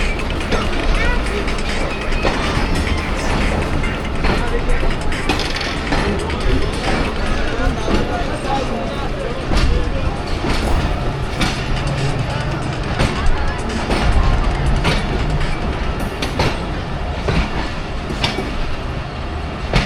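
Rehman Baba Express passenger train rolling on the rails between Faisalabad and Rawalpindi, a steady loud rumble with rhythmic clickety-clack of wheels over joints, heard from inside the coach for the whole stretch.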